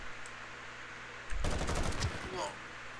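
A short burst of gunfire from Call of Duty: Modern Warfare, starting abruptly after a quiet stretch and rattling on for about a second as rapid shots before tailing off.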